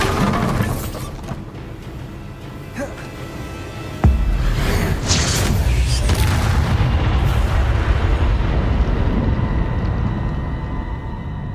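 In Hogwarts Legacy, the Bombarda spell goes off as a sharp, loud boom about four seconds in, followed by a sustained rumbling, crackling aftermath, with lighter magical whooshes beforehand.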